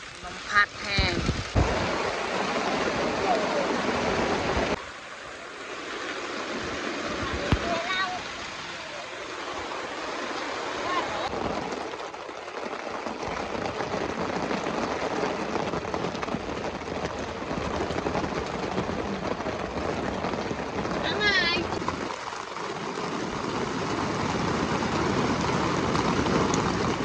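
Heavy rain and gusting wind pour down in the forest, heard from a shelter at a jungle campsite, a steady loud broadband roar that runs the whole time, with brief gaps and a few faint voices over it.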